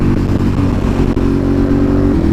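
A motorcycle rides through a winery just outside Charlottesville in Central Virginia, its engine a steady, loud, close mid-pitched drone with a continuous throb and no gaps.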